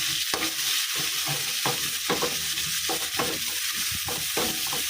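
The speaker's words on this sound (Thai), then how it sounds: "ใส่พริกลงไป ผัดให้หอมนะคะ" Chilies stir-fried in hot oil for a Thai dish: a loud, continuous sizzle with repeated scraping strokes of a spatula in the pan, close up and with no voices.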